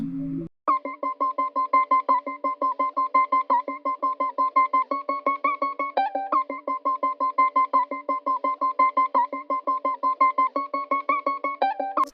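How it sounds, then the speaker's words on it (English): A bright plucked guitar repeats one note in fast, even double-time strokes, with occasional pitch steps, loud and steady throughout. "the next sound that I added was this acoustic guitar that I played"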